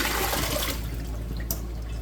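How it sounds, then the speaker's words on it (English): Boiled carrots being strained as their cooking water pours off in a rushing splash that is strongest at first, then thins to a trickle and drips. "now we're gonna strain the water off of the carrots"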